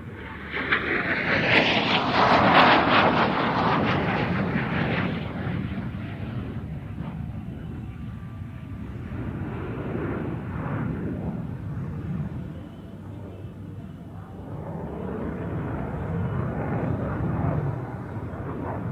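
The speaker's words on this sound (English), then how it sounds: "Major Tice will demonstrate the extraordinary roll performance of the F-16 with 4 consecutive aileron rolls at low altitude" An F-16 jet roars past at low altitude while flying consecutive aileron rolls at an airshow, a loud rushing engine surge that swells early, then fades into a lingering distant rumble.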